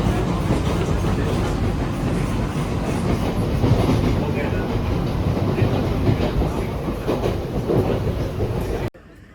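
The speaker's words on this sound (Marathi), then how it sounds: "आणि आता ही ट्रेन आलेली आहे, AC ट्रेन आहे." A Mumbai suburban AC local train rumbling with clickety-clack wheel noise at a busy station, loud and continuous until it cuts off abruptly at the end.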